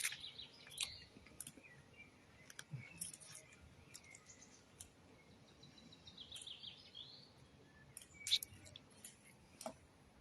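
Small birds chirp and tweet faintly at feeding time, with scattered high calls and a few sharper peeps over a low rustling background, and no talking.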